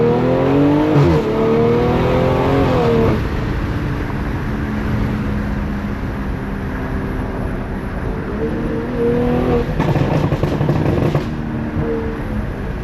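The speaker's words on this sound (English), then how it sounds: "Might as well launch the car while we're here." A BMW M340i with a B58 engine launches hard, its loud engine note climbing through the revs, easing to a steady cruise, then surging up again with another rising rev near the end.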